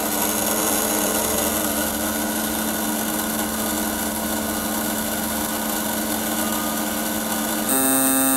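A fuel injector service machine working on Honda S2000 injectors, running as a steady, loud, high-pitched mechanical whine with a continuous buzz that shifts slightly near the end, with no talking.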